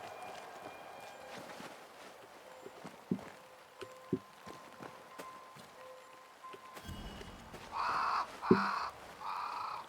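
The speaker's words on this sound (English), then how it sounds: "That's a big bird." A large crow caws several times in the game Banishers, loud harsh calls near the end following scattered hoof-like footsteps and thuds, with no talk.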